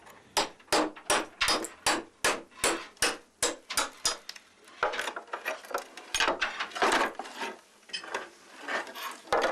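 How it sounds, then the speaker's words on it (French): Hammer blows drive wedges into a slate slab to split it, a fast run of loud, sharp strikes close by at first, then denser, scraping knocks and cracks as the stone gives. "À l'aide d'un marteau et d'un ou deux coins, le fendeur attaque la dalle de schiste par le milieu."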